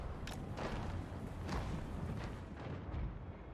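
Tomb King troops shooting at a city gate during a siege battle in Total War: Warhammer 2, a dense, steady roar of massed gunfire with scattered sharper cracks and thumps running throughout, no voices.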